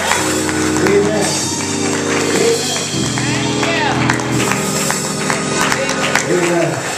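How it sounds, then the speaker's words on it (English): Congregation claps in praise during a church worship service, a dense layer of hand claps mixed with music and voices throughout. "Give the Lord a hand clap of praise."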